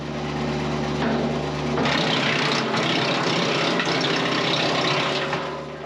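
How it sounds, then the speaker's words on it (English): A Farmer Helper BX42S wood chipper driven by a Kubota tractor chews through a two-inch branch, a loud steady engine drone with rising grinding and crackling as the wood feeds in. "let's see how this chipper and this tractor here will handle a 2-inch size branch"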